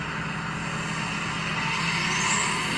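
Single-turbo BMW F80 M3 Competition engine running steadily, a continuous mid-loud droning exhaust note with a faint rising whistle near the end and no talk.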